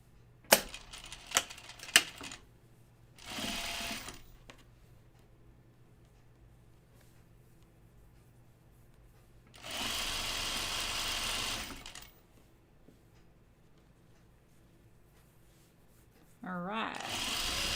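A sewing machine stitches a hem on a top in three separate bursts of steady whirring, each a few seconds long with quiet gaps between, plus a few sharp clicks near the start.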